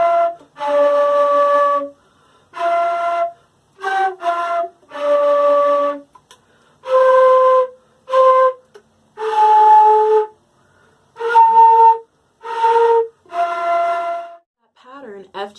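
Woodwind instrument playing the opening line of Silent Night, a sequence of clear sustained tones with short gaps, steady and close, played alone.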